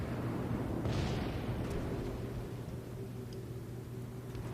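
Naval guns firing in the World of Warships video game, with one deep booming blast near the start that rumbles away into a low, steady background hum.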